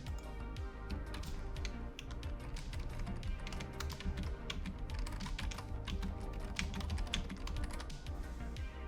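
A computer keyboard clicks in rapid, uneven bursts of keystrokes as file names are typed, close and steady for the whole stretch with no speech.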